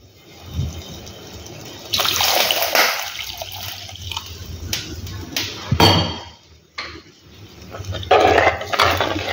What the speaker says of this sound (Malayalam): ഇനി കറിയിലേക്ക് പാകത്തിനുള്ള വെള്ളം കൂടി ചേർത്ത് കൊടുക്കണം.